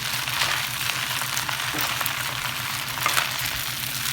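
Lao rice noodles stir-frying in a pan, giving a steady close sizzle and hiss with light stirring scrapes, unbroken for the whole stretch and with no talking.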